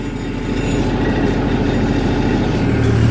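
A tractor engine runs steadily with a low, rumbling idle while its hydraulics are raised on a farm field. The drone is loud and continuous, and it builds slightly after the start.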